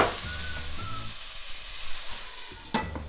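Vegetables and tofu fry in a pan with a loud, steady, close sizzle, broken by a few stirring scrapes and a clank near the end.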